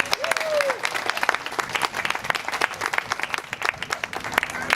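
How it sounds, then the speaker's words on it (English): An audience claps and cheers for a city council candidate at an Oxnard mayoral campaign event. The applause is steady and dense throughout, with a brief whistle near the start. "Orlando, we'll give you a round of applause, please."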